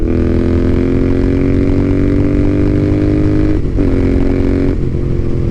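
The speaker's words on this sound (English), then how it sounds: "There's something about this parallel twin that has a special sound to it" Royal Enfield Interceptor 650 parallel twin engine revs loudly and steadily up close, holding a strong throbbing note with a brief dip in pitch near the end before climbing back, with no talking.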